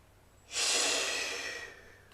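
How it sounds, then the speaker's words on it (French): A person blows out one very hard, long breath, a loud close rushing exhale that starts abruptly and fades over about a second and a half, otherwise quiet. "Et vous soufflez. Vous soufflez très très fort."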